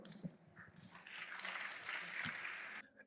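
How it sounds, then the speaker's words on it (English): Weak, scattered applause from an audience at a talk or sermon, a brief thin patter of clapping that rises and fades within a few seconds, fairly faint and distant. "notice the weak clap"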